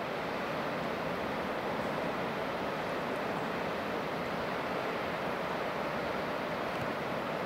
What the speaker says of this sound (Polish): I w oddali takie leciutkie, delikatne fale.